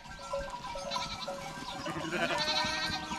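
Several sheep and a ram bleat in overlapping calls on a pasture, fairly close, with a busy farmyard background.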